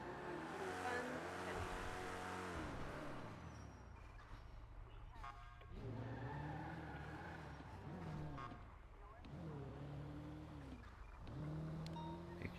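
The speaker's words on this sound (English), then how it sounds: "My car is driving like shit." A car in the video game GTA V on the NoPixel server drives along, its engine note climbing and dropping repeatedly as it revs through gears, steady and fairly loud, with talk underneath.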